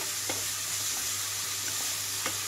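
Mint, coriander and mixed vegetables fry over a medium flame for soya chunk biryani, giving a steady, soft sizzle with a few faint stirring ticks, close by and alone.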